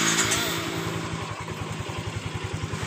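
A Yamaha Mio motorcycle, a scooter with a CVT that is burning oil and giving off white smoke, starts up and settles into a steady, close-up idle with a rhythmic single-cylinder putter.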